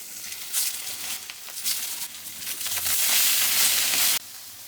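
Small, fresh, cleaned whole fish fry in oil, a steady close sizzle and crackle that swells louder toward the end and then drops off abruptly, with no talking.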